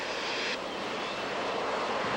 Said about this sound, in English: bring the Harrier back into a hover mode over the intersection of runway 32 and Alpha Taxiway